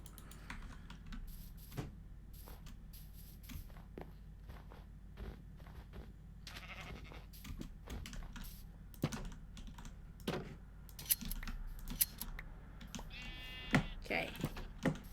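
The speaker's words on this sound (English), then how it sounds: "I forgot to shear the sheep." A Minecraft sheep bleats a few times amid a villager-breeding session, faint and brief among sparse clicks and soft footsteps, with no clear voice over it.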